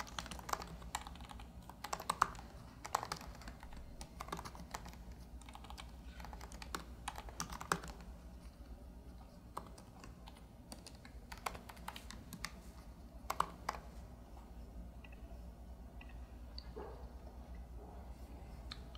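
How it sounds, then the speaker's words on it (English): Typing on a computer keyboard, irregular bursts of soft close key clicks continuing throughout with no talk over them. "type in your domain right here"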